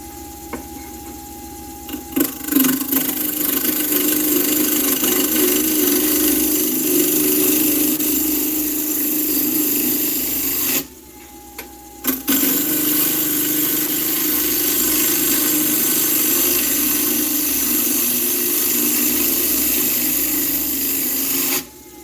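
A wood lathe spins a walnut blank at high speed, a steady loud whir with a gouge scraping and rasping against the wood, briefly cutting out once near the middle before resuming.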